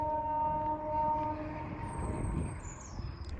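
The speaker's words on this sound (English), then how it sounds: "the distant sound of a train begins to echo through the valley." A train rumbles in the distance, echoing through a valley near Knaresborough Viaduct in England, with a steady low drone, while a high horn-like tone sounds faintly toward the end.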